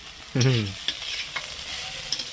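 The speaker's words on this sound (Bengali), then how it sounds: "এবার জিরেটাকে এর সাথে ভেজে নেব তেলে নয়" Cumin seeds are dry-roasted without oil together with pointed gourd in a pan: one sharp, close scrape of a spatula, then a soft, light sizzle with a few faint clicks of stirring.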